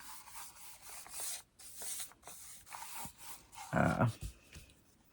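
Brush strokes of Fusion clear wax across a repurposed fan blade, a soft dry rubbing and rasping that comes in uneven passes, with one louder scrubbing burst near the end.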